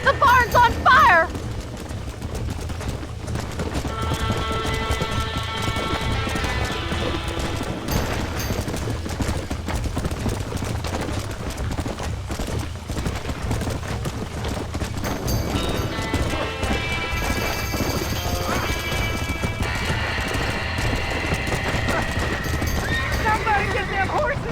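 In the video game Red Dead Redemption, horses whinny and hooves clatter in a burning barn amid loud chaotic action, gunfire-like bursts and shouting voices, with dramatic music running throughout.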